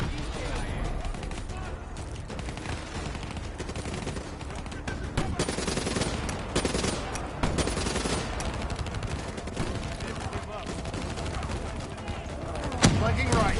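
Sustained gunfire in the Call of Duty: Black Ops 3 campaign, rapid automatic bursts and overlapping shots running continuously at close range, with occasional louder cracks and faint voices mixed in.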